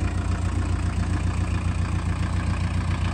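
Diesel engine of a 1981 Volkswagen Rabbit pickup idles loudly and close by, a steady low rumbling chug with a fast even knock and no voices.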